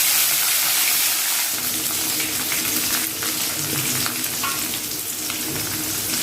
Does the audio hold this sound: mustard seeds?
yes